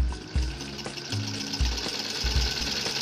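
An electric sewing machine stitching the folded leg hems of a small doll's night suit, a close, steady mechanical whirr with rhythmic thumping pulses repeating about every half second, with no voices.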